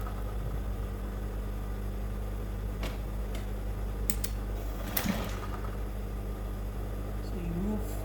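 A sewing machine stitches fabric along a marked line while sewing a pocket, a low steady mechanical whir with faint ticking and a few clicks close by, and no voices.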